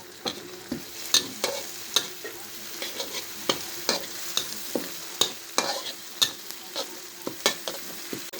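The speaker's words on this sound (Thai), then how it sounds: "ผัด พริกกับกระเทียมให้หอมนะครับคั่วไฟเบาๆไปก่อนครับ" Chili and garlic stir-fried over low heat for Thai beef basil, with a steady soft sizzle and regular scraping strokes of the spatula against the pan, each stroke a sharp clack, no voices.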